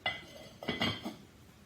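A lid is set on a cooking pan of sizzling chorizo, giving a few faint metallic clinks and rattles close by, then settling quietly.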